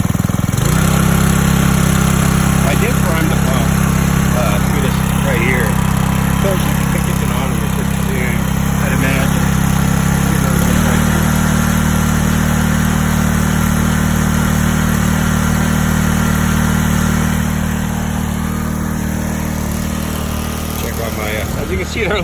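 A small gasoline-powered 1 1/2-inch WX15T water pump runs outdoors in snow, feeding a gold sluice. It gives a loud, continuous engine drone throughout, with the pitch dropping slightly partway through.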